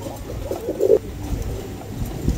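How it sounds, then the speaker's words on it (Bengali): Pigeons at a pigeon dealer's coo in a few short, low, throaty bursts during the first second, then fall quiet against a soft background hum. "চমৎকার একটা কবুতর"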